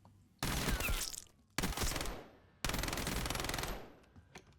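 Automatic weapon fire in Black Ops 7 with the fire rate raised: three long, rapid bursts of gunshots separated by short gaps, loud and close, each trailing off into a ringing decay.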